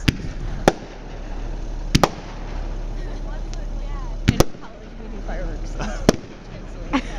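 Fireworks burst during a college 50th anniversary display: sharp loud bangs come in irregular pairs and singles over a steady outdoor crowd murmur, with crackling and faint whistles between them and people talking throughout.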